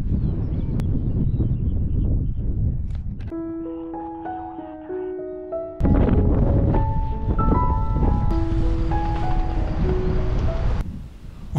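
Strong crosswind buffets the microphone at a paragliding takeoff in Trossagne, a steady loud rush of gusts with a few tonal hums and brief voices beneath it.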